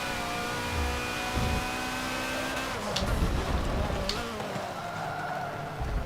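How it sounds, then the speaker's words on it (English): Mercedes race car in a sim racing game labouring up a hill, its engine droning steadily with a low, strained hum and harmonic whine that bogs down midway, heard clearly throughout with no talk over it. "This Merc just has no power unless you spooled that turbo up."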